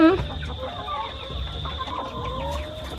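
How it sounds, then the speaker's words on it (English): Chickens clucking and murmuring nearby in a yard in Jamaica, a steady scatter of soft clucks over a constant high electronic whine and low background rumble. "Look at these beautiful chickens."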